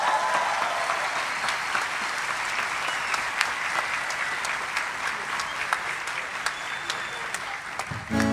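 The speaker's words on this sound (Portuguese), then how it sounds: "Eu peço o aplauso de vocês, que recebam com muito carinho." A live concert audience applauds to welcome a performer, a long, even wash of clapping with scattered sharper claps standing out, steady throughout and fairly distant.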